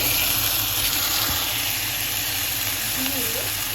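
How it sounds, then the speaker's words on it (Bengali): Onions that have been frying for a long while sizzle in a pan, a loud, constant hiss close up with a faint low hum underneath and no clear talking. "এখন আমি পেঁয়াজটা ভাজা ফ্রাই হয়েই গেছে, অনেকক্ষণ ধরেই ভাজা করছি পেঁয়াজটা"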